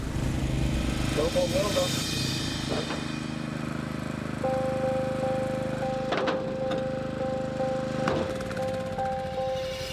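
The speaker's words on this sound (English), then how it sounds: "we tried to just ramp up the throttle setting on the generator" A generator engine powering a welder in Greenland has its throttle ramped up, giving a loud, steady motor drone that holds and shifts in pitch, with a voice speaking over it.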